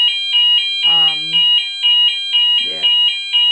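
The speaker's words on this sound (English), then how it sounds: "I can still hear the alarm through this." A fire alarm blares at 1am in a building, a loud, close, piercing electronic tone pulsing in a steady repeating rhythm, with a person briefly speaking over it twice.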